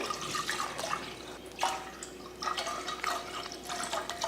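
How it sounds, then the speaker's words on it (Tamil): A litre of milk is poured into a pot to make payasam, producing a close liquid gurgle and splashing with irregular surges, steady and fairly soft, with no voices. "பாயசம் பண்ணுறதுக்கு நான் வந்து ஒரு லிட்டர் பால் சேர்த்துக்கிறேன்"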